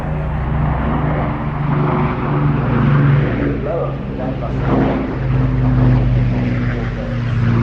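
A propeller aircraft flies past low over trees at an air festival, its steady droning engine loud and sustained beneath continuous commentary.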